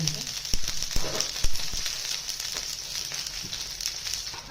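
Bajra thalipeeth frying in oil on a covered pan, a soft continuous sizzle with light crackling and a few small pops, quiet and close, with no talking over it.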